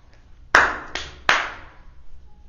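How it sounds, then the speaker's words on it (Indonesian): Hand clapping in honour of Haji Agus Salim comes as three sharp, close claps spaced about a second apart, each with a short ringing tail, against a quiet background. "Tepuk tangan kita semua"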